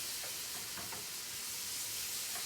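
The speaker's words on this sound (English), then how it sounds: "Oh, hear that sizzle." Hot melted butter poured over roast potatoes fries with a steady, close sizzling hiss that stays even throughout, with no voice over it.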